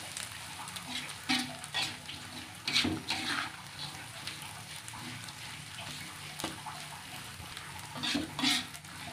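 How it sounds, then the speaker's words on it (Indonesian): Sumpia spring rolls fry in a few spoonfuls of hot oil, giving a soft continuous sizzle with occasional louder bursts of crackling and stirring. "Kita goreng sampai kering."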